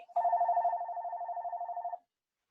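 A landline telephone gives one long, steady electronic ring of rapid pulsing tones lasting almost two seconds, heard close and alone, then cutting off into silence.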